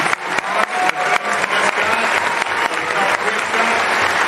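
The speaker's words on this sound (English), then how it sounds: "give a little round of applause to Mattel and Warner Brothers" A large convention-hall audience at a San Diego Comic-Con Superman panel breaks into sustained applause, dense and steady clapping that fills the room for several seconds.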